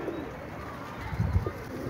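Pigeons coo softly in a low, muffled burble at close range, with a couple of deeper coos near the end over a faint room hiss.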